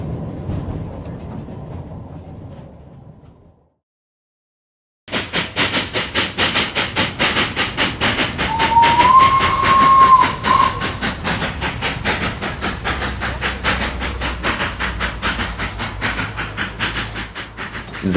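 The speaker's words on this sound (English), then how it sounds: "The train skidded to a halt at Arcadian Station." A moving train rumbles and clatters with hissing steam and a high squeal of brakes as it skids to a halt at a station, after a brief stretch of silence.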